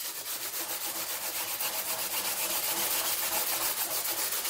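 Resin being sanded by hand during a PLA welding repair, a steady, close, scratchy rasp of rhythmic back-and-forth strokes that continues without pause and with no voices.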